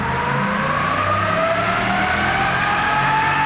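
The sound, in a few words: 2018 Ford F-250 truck engine revving on a dyno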